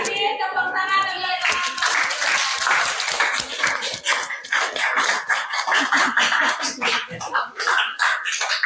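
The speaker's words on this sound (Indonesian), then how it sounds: "Terima kasih, tepuk tangan dulu." Classroom audience clapping after a student project presentation, a lively burst of many hands clapping that rises after a brief spoken moment and carries on steadily, with some voices mixed in.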